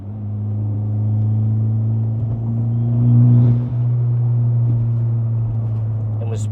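2024 Acura Integra Type-S with an A'PEXi N1-X valved catback exhaust in sport mode with the valves half open, holding a steady low drone that swells briefly mid-way.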